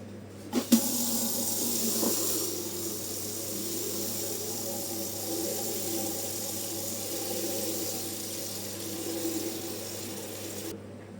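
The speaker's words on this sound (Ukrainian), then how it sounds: "Ось я вже налила води в помідорки." Water streams steadily from a tap into a jar of tomatoes, a constant hissing fill lasting about ten seconds after a couple of brief knocks at the start.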